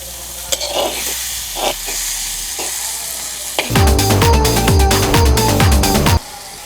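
Curry leaves, onion and chili fry in oil, the pan quiet with a few soft scrapes at first, then a loud dense sizzle with rhythmic stirring clatter that cuts off abruptly near the end.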